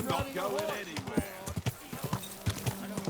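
Horse hooves clip-clopping in the medieval game Kingdom Come 2, a steady rhythmic trot of fairly close hoofbeats heard beneath ongoing talking voices.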